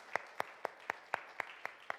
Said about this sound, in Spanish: les damos un aplauso a la manera de la Embajada